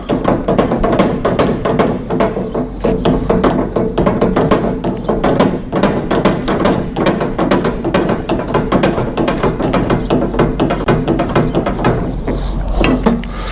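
A small red screw on a Conestoga is loosened with a tool, giving a close, loud run of rapid ratcheting clicks and mechanical ticks repeating steadily throughout.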